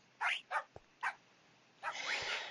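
Minecraft parrots imitating a dog, giving several short, high yappy barks in a quick uneven sequence, followed by a longer rough bark, clear and close.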